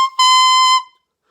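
Clarinet mouthpiece with reed blown alone, giving a short, bright, squealing high tone that starts with a brief blip, holds for about half a second, then cuts off into silence.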